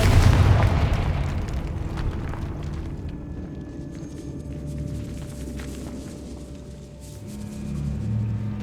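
A Confringo blasting spell in a video game going off as a loud, deep boom that decays into a long rumbling tail, with a fainter swell toward the end.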